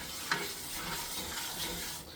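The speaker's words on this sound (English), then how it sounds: "I got it rubbing the bottom of this cast iron skillet, and that's not hurting this wooden spatula at all." A wooden spatula scrapes and stirs flour across the bottom of a cast iron skillet, a soft, steady hiss of dry rubbing and faint sizzle heard up close with no talk.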